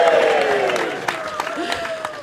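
A crowd at a debate on socialism gives a big cheer and applause, loud and close, with voices whooping and hands clapping together, then tapering off over a couple of seconds.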